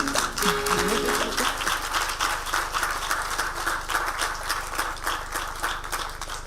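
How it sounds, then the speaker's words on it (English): An audience at the United Nations Nairobi expansion groundbreaking ceremony in Gigiri breaks into sustained applause, a dense wash of clapping that holds steady throughout, with a brief voice heard at the start. "Another round of applause."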